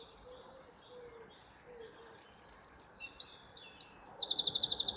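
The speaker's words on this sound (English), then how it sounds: "That fabulously loud and strident song next to me here is a wren." A wren sings a loud, strident song nearby in a nature reserve's dawn chorus, rapid trilling bursts and sharp chirps repeating clearly, with fainter birdsong in the background.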